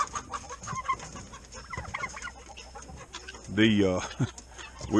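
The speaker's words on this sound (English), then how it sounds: "I think we're having a chicken fight over here in this pen." Chickens scuffle and cluck in a small pen alongside a naked neck turkey, with scattered clucks throughout and a louder burst of squawking near the end, close by and fairly loud.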